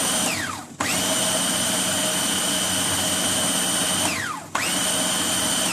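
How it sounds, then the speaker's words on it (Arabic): A high-pitched blender motor whines steadily, cuts out briefly and spins back up twice, pulsing on and off nearby while blending a homemade Nutella spread. "وعلى مهلك عشان ما تبقاش تقيله على الموتور بتاع الخلاط او الكيتشن ماشين بتاعي"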